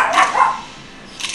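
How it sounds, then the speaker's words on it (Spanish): Several dogs bark indoors in two quick bursts, sharp yips close by at the start and again near the end, with a quiet pause between. "mis perros están ladrando porque comienza una voz"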